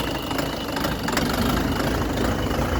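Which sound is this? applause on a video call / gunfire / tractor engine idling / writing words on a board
tractor engine idling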